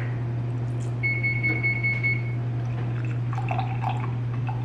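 An electric milk frother whirring steadily as it froths milk for iced coffee, a constant close hum with light liquid swishing over it and a faint beep-like tone partway through.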